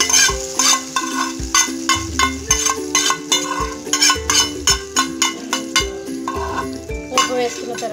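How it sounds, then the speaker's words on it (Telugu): A spoon stirs tempering into whipped curd for dahi vada, making rhythmic clinks and taps against a metal bowl, with a soft sizzle underneath and background music playing throughout. "ఇప్పుడు ముందుగా మనం చిలికి పక్కన పెట్టుకున్న పెరుగులో పోపు వేసుకోవాలి"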